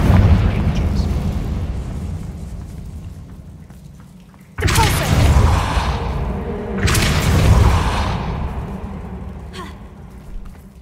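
A Confringo fire spell in Hogwarts Legacy erupts in two heavy booming blasts a couple of seconds apart over rumbling game ambience, with a voice speaking during the clip.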